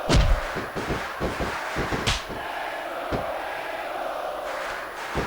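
An arena crowd in the wrestling video game SmackDown Vs. Raw 2006 roars steadily while sharp thuds and slams land, clustered early and then scattered, the cheering carrying on underneath.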